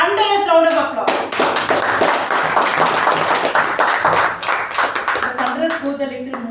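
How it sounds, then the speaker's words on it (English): Round of applause at a club meeting, brisk close-up clapping from a modest group that swells for several seconds, with a voice speaking just before it starts and again as it dies down. "Let's give a thunderous round of applause."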